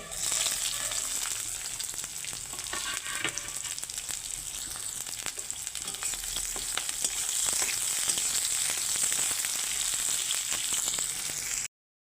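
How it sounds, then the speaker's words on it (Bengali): Chopped onion fries in hot oil in a wok with black cumin and garlic, a continuous crackling sizzle broken by occasional stirring clicks, close and fairly loud with no talk. "পেঁয়াজগুলো ভাজা ভাজা হয়ে গেছে"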